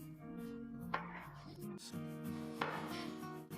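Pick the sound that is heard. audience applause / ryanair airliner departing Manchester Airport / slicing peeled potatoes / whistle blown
slicing peeled potatoes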